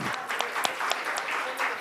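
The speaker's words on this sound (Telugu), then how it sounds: "క్లాప్స్ కొడితే బాగుంటుంది అందరు." An audience at a youth Christmas gathering claps in a brief, steady burst of applause, close and moderately loud.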